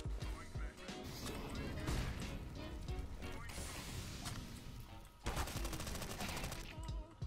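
MP5 submachine gun fire in a video game, dense rapid bursts of shots crackling over music-like game sound, with a short pause before another loud burst near the end.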